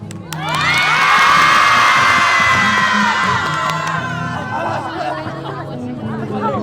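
A street crowd at a Hongdae performance-team show in Seoul erupts in loud, high-pitched cheering and screams, shrill voices sustained for several seconds before easing into excited chatter.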